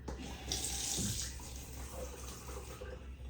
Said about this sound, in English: We're gonna fill this up with water 3 times.